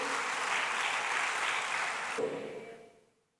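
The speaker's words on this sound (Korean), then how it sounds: "은혜 주신 하나님께 영광의 박수를 드렸습니다" A church congregation in Gwangju, Gyeonggi claps together to give glory to God after a Sunday sermon, a dense even burst of applause that holds for about two seconds, then thins and dies away into silence.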